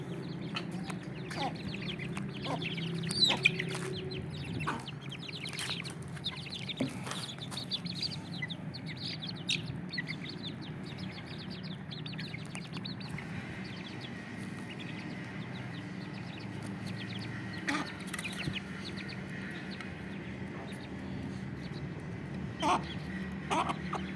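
Aseel chicks cheep in scattered bursts while a hen clucks nearby, a sparse mix of high peeps and low clucks over quiet background at moderate distance.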